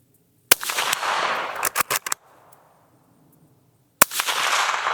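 Supersonic rounds from a suppressed Ruger American Ranch rifle fired outdoors at steel targets: two loud, sharp reports about three and a half seconds apart, each with a long rumbling tail, and a quick burst of cracks between them.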